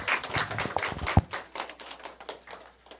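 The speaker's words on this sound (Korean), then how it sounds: "우리 격려와 축하의 박수 부탁드립니다." A church congregation at Sunday worship applauds, a brief patter of scattered hand claps from a modest crowd that thins out over a few seconds.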